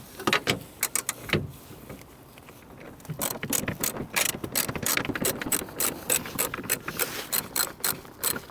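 A socket ratchet with an extension loosens a 10mm side mirror bolt inside a car door. It gives close, quiet bursts of rapid clicking, broken by short pauses between strokes.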